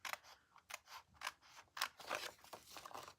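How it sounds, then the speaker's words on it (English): Small scissors snip paper to trim a handmade note card, giving a quiet, close series of crisp cuts in an uneven rhythm, with no talking. "I will take my little snippies and trim this out"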